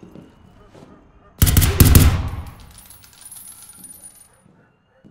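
A sudden burst of rapid automatic gunfire erupts in the video game Zero Hour, loud and close for about a second before fading into a ringing tail and quiet.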